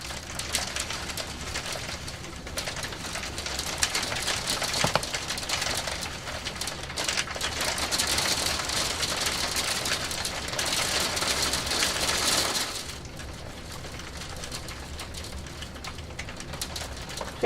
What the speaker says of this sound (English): there's hail.